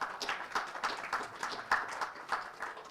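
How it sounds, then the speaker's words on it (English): Audience clapping at an AI openness panel forum in India, a steady run of claps with small rhythmic bursts, moderately quiet and fairly close, with no talk over it. "Please join me with a round of applause in welcoming our guest today"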